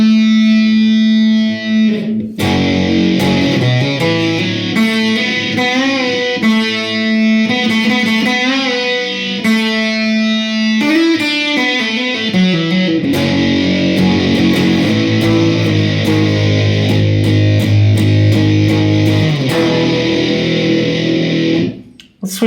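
Electric guitar driven through an Abominable Electronics Demon Lung fuzz pedal, heavy distortion, thick sustained chords and riffs played continuously and loud for the whole stretch, with no talking.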